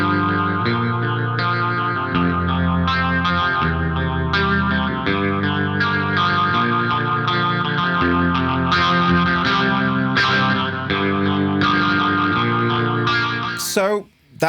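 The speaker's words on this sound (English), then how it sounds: "So that is the sound of the phaser." Distorted electric guitar chords play continuously through a sweeping Warm Audio Jet Phaser pedal, the tone swirling and shifting steadily before ending with a sharp noise.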